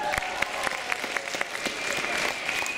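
Audience at a KVN comedy cup event in Barnaul applauds on cue, loud dense clapping with sharp individual claps standing out, sustained and even throughout.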